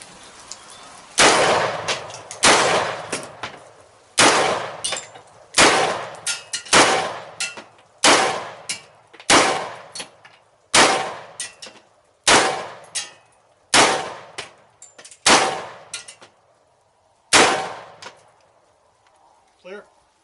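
An XM177 rifle fires at tin cans outdoors, about a dozen loud, sharp single shots spaced roughly a second or two apart, each ringing with a metallic clang and a short decaying echo.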